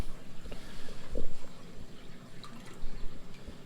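Water gurgles and drips as the siphon on the outlet tube of a Pax Bellum ARID C30 aquarium algae reactor is broken, faint irregular trickles and bubbles with a soft burble near the middle, no talking.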